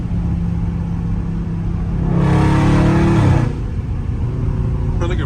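Catless Dodge Scat Pack exhaust heard during a fly-by, a steady loud rumble that swells into a brief roar as the car passes, then settles back to a droning background.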